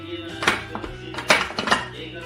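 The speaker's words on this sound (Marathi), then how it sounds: "आता आपण कुकर खोलणार आहोत" A pressure cooker, used to make Konkan-style chicken popati with mamoti leaves, is opened, with a few sharp metallic clinks and clatters of the lid and pots close by. The handling is spread over about two seconds.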